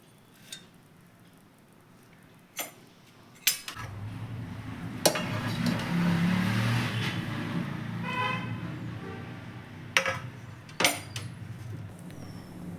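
Fried onion and garlic are ground in a mixer grinder jar. After a few clicks and clatters, a steady motor whir starts and runs for several seconds, then tapers off among more clatter.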